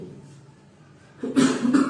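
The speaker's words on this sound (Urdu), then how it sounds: "آپ کو کھانسی آ رہی ہے" A single person coughs abruptly, a couple of loud harsh bursts close to the microphone after a quieter moment.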